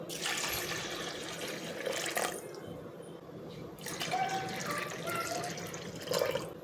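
Water pours steadily into a pressure cooker in a couple of bursts, with a splashing, filling sound and brief pauses between pours.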